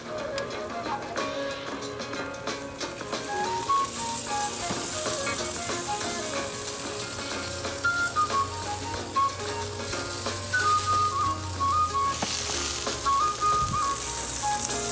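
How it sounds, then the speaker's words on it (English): Portobello mushrooms sizzle on a crowded outdoor grill alongside sausages and fish, a steady close crackling fry that runs throughout with bright background music over it. "we are gonna go ahead and just put them on the grill with everything else that's out"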